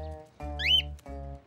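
A cartoon character whistles in a children's animated series: a brief rising whistle glides upward for a moment over a sustained, humming tonal backdrop, with no talk during it.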